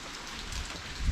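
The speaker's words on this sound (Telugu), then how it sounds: "వర్షం తగ్గినట్టుంది గాయస్ కొంచెం" Steady rain patters on a surface nearby, a soft, even hiss of drops with a low thud at the very end, and no voices.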